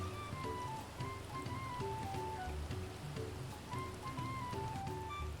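Rain falls steadily in Final Fantasy XIV: Dawntrail, a soft, continuous patter of drops with a faint melodic game tune running underneath and no voices.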